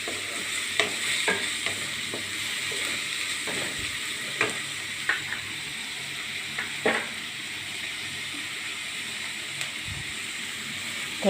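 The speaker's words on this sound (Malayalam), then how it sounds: "നന്നായിട്ട് ഇളക്കി കൊടുക്കാം." Onion and finely chopped garlic fry in a pan with a steady soft sizzle, while a spoon stirs and scrapes the pan in scattered knocks and clinks close by.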